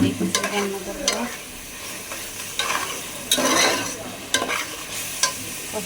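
Mung dal being stirred into a sizzling pan of frying food in a home kitchen, with a steady close sizzle broken by repeated bursts of scraping and stirring, no voices.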